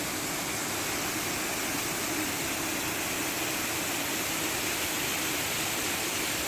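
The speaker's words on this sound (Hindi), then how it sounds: "बहुत ही ऊंचाई से आने वाला ये झरना." A tall mountain waterfall on a rainy Spiti road trip drops from a great height, giving a loud, dense, constant roar with no break and nobody talking.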